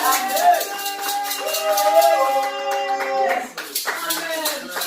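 A church congregation at a Sunday service claps in acclamation, steady applause running under singing voices and a sustained melodic line, with a brief dip near the end before clapping resumes.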